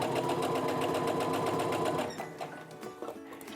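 A sewing machine stitches quilt fabric blocks together, a rapid close mechanical whir of needle strokes that runs steadily for two seconds, then slows and stops with a few soft clicks and fabric handling.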